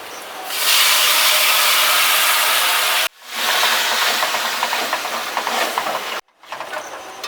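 A little water poured into sizzling masala bursts into a loud, hissing steam roar that swells, cuts off, returns and fades, then flares again briefly, close by with no talking.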